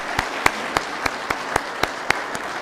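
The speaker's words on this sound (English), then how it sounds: "A round of applause for that amount of money." Claps ring out at a community grant awards celebration, heard as a sparse run of distinct, evenly spaced sharp slaps about every quarter second rather than a full crowd ovation.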